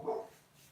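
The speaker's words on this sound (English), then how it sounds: "I don't know what my dog is upset about" A single short dog bark, moderately close, followed by quiet room tone.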